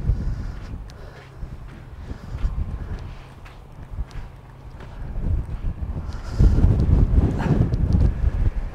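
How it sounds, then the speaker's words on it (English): Strong wind in Galway City buffets the microphone in gusts, a rough low roar that swells louder toward the end, with faint background noise. "Very, very windy here, my friends."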